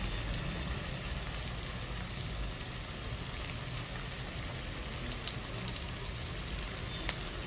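Curry leaves sizzle in hot oil with fenugreek and mustard seeds for a bitter-gourd theeyal, a dense, steady crackling hiss that holds evenly throughout with no voices.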